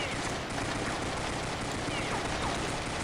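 Rapid automatic gunfire rattles in Counter-Strike Online, a dense, loud, continuous burst of shots with no pauses throughout.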